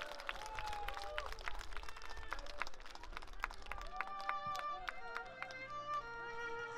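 Applause and crowd chatter rise from the audience at an outdoor autumn-foliage festival stage in Boryeong, South Korea, heard faintly beneath tonal music as a singer is introduced.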